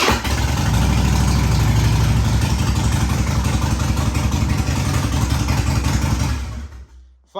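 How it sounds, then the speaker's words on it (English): A Harley-Davidson Springer motorcycle engine runs loud and close with a steady low throbbing idle for several seconds, then cuts off abruptly near the end. "just want to make sure it fires up at least"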